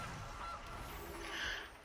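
A digital honk from a Gilded Goose card played in MTG Arena sounds faintly, a couple of short nasal calls sitting low in a hissy background.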